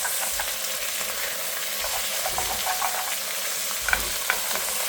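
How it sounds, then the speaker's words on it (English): South Indian curry being stirred in a hot pan, a constant sizzle and frying hiss with soft scraping strokes and a couple of sharper clinks, close up with no talk. "give it a little mix"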